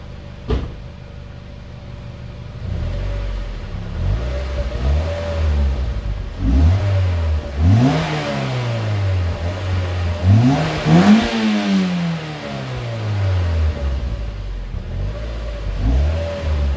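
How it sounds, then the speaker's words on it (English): Mazda Miata NC with its stock exhaust, revved repeatedly: the engine idles, then climbs through several rising rev sweeps that fall back each time, loud and close, with no talking. "That's the sound of the stock exhaust."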